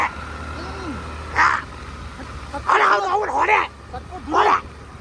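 A dog barks in short bursts, three sharp yappy barks spaced a second or so apart, over a low steady hum.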